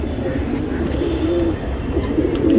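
Pigeons kept in a hobbyist's loft coo softly and repeatedly, low rolling calls close by over a steady background hum.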